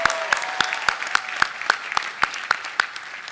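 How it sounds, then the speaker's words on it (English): Scattered, evenly spaced claps ring out in a large commencement ceremony venue after a sung performance of America the Beautiful, a sparse, rhythmic patter rather than a full roar, with no voices over it. "Let's give him another round of applause for a great performance."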